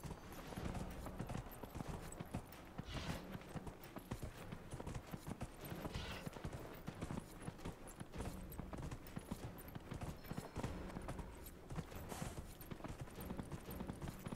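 Horse hooves clip-clop steadily during a horse race in the video game Dragon Age: Inquisition, a fast rhythmic galloping beat that runs throughout at close range with no speech.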